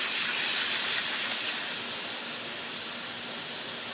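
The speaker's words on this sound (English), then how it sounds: "it's really nice to have that compressed air on the job site to clean out" Compressed air blasts out of an air hose on a job site to clear sand and moisture, a steady loud hiss that eases slightly over four seconds.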